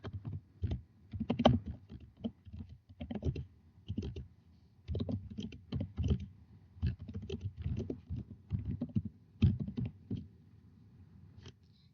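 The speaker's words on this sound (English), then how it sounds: "So I'm going to type in" Typing on a computer keyboard, with steady bursts of close key clicks and short pauses between words, with no voices.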